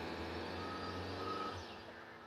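Reversing beeps from a car shifted into reverse during a driving lesson on crossing a ditch and steep ramp, a steady tone held for about a second and a half over low engine rumble, then fading.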